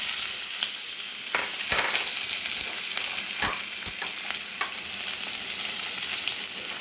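Onions frying on a very low flame in a pan for a lentil tadka, a soft steady sizzle with occasional taps and scrapes from stirring, close and moderately quiet with no speech.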